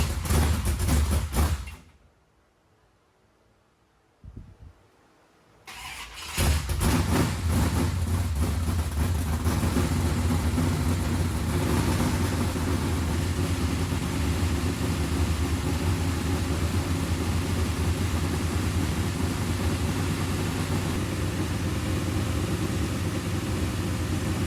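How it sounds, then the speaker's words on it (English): A 1968 Dodge Charger engine runs nearby, a loud broadband roar that drops away into near silence for a few seconds, then resumes and holds steady and strong for the remainder. "we ran the Charger for another solid 10 minutes"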